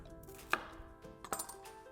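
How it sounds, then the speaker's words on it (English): A knife roughly chops a peeled onion on a board, two sharp close cuts about a second apart, alone without talk. "We're just gonna give it a rough chop, nothing fancy here."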